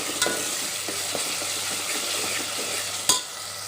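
Ginger-garlic paste with tomato fries in oil for Kolhapuri misal, a close, continuous sizzle with light stirring scrapes and a sharp clink near the end.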